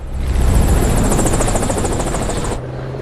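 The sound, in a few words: helicopter in a James Bond film scene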